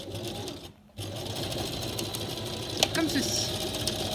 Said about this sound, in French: je vais faire plusieurs allers-retours pour coudre l'élastique